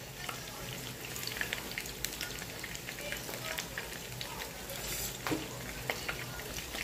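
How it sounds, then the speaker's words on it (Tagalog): Water boiling in a pot for fish head soup, a dense bubbling and crackling hiss that stays steady and close, with faint clinks now and then. "kumukulo na ang ating tubig"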